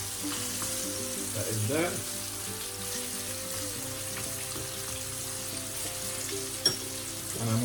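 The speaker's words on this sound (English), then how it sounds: "Give them a couple of minutes to fry and each side." Jerk chicken pieces fry in a hot pan with a steady, dense sizzle that runs unbroken throughout, with a brief clatter or stir sound near the end and a few quiet spoken words.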